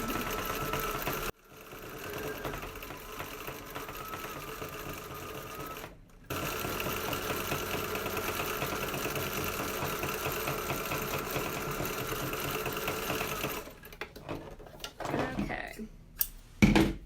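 A sewing machine stitches fabric for a patriotic pillow wrap in long steady runs of rapid whirring, stopping briefly twice and then giving way to fabric handling and clunks near the end, with a person talking at times.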